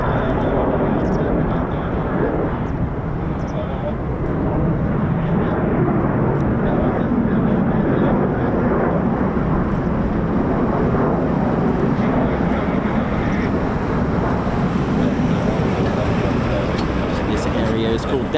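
A USAF fighter jet, an F-15 or F-35, roars loud and broad through a low approach, a steady heavy rumble that lasts throughout, with wind buffeting and a voice talking over it.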